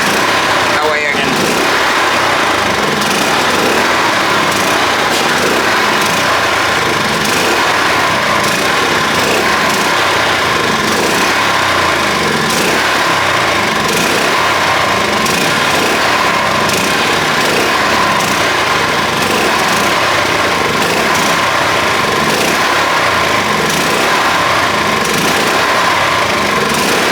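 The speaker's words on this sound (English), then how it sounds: "Takes a little bit of time to use all the fuel of the carburetor, but I always recommend people let it fuel down." A WEN generator engine running steadily until its carburetor fuel is used up, a loud, constant buzzing drone close by, with someone talking over it.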